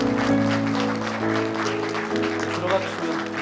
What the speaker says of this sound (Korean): 여러분 박수해 주시면 감사하겠습니다